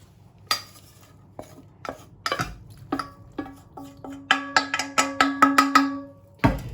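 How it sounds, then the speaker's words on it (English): Whisk clinking and scraping against a pan while grated cheese is worked into a sauce for macaroni cheese, a run of sharp metallic taps that speeds into a quick rhythm of close, bright strokes. "I'm going to whisk that into my sauce"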